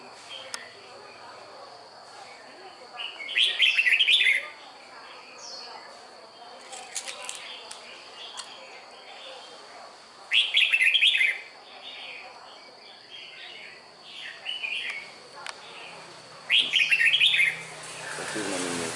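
A tame, newly arrived red-whiskered bulbul sings in short bursts of bright, warbling phrases about every six seconds, close and clear, separated by quieter pauses with faint background chirps.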